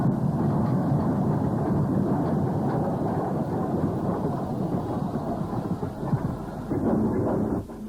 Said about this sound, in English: Snow Hill and King William IV departs with a down train.